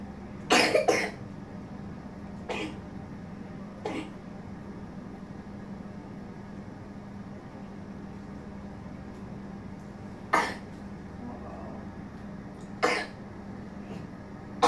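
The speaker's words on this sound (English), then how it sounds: "I wish he was in here now while you coughing" A person coughs in short, sharp bursts: a double cough near the start, then single coughs spaced several seconds apart, over a steady low background hum with no talking.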